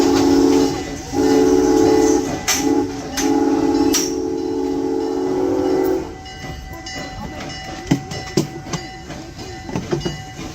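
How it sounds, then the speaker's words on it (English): A safari train at Busch Gardens sounds a long steady steam-style whistle in repeated blasts, then the whistle stops and rattling and clanking carry on at a moderate distance. "And here comes the train."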